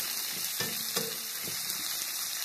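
Onions browning in a hot pan for a chicken feet curry: steady, close hissing sizzle throughout, broken by a few soft knocks of a stirring spoon.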